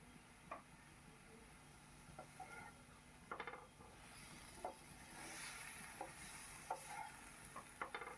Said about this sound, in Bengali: শাককে ভালো করে ভেজে নিতে হবে।